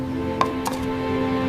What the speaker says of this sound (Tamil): அவியலுக்கு காய்கறிகளை நீலவாக்கில் வெட்டுவதுதான் பாரம்பரிய முறை.